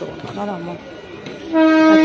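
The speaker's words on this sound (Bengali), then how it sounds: "ট্রেন আসবে দেখো" An arriving train sounds its horn at a station, a loud, sustained tone cutting in abruptly after brief talk by nearby people and holding steadily to the end.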